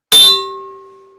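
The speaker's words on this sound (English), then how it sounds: "hit that notification bell." A bright notification bell ding sounds once, striking sharply and then ringing out in a long, clear, fading tone.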